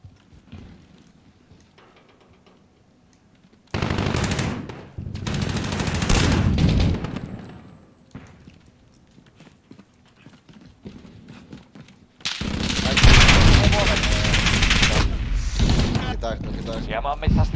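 Bursts of rapid gunfire erupt in two long stretches, loud and dense, with quieter game sounds and voices in between.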